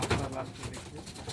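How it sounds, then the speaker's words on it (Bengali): Pigeons coo softly and briefly at close range as they are let go, a few low rounded calls over quiet background noise. "এবার আমাদেরকে কবুতর ছেড়ে দেখাচ্ছি বন্ধু।"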